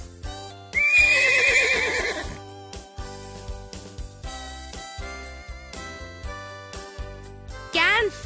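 A horse whinnies loudly, a quavering neigh over light background music, with a second brief whinny near the end.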